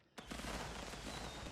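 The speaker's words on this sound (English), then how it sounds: "you can also interrupt the amount of rockets you're shooting" A quick volley of rockets fires in a video game with scouts, a sharp launch followed by a dense, rumbling burst of repeated blasts, loud and close.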